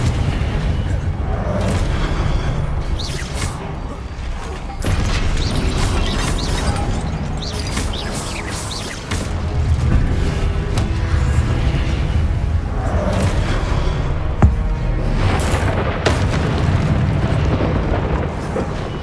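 Confringo blasting spells exploding in the game Hogwarts Legacy, with loud booms and rumbling blasts that repeat through a long, busy battle and a voice talking in among them.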